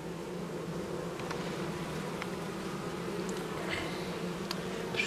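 Honeybees buzz steadily around an open hive during a midwinter colony check, a dense continuous drone with no talk and a few brief nearby fly-bys.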